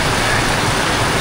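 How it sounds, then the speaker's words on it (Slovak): Heavy rain pouring down on a roadside in Mexico, a dense, loud, continuous hiss with no pauses and no voices. "To je také, že dosť prší."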